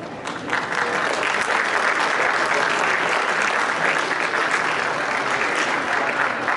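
Sustained applause from the audience at a high school choir winter concert, dense, even clapping that rises quickly and holds at full strength, close and loud throughout.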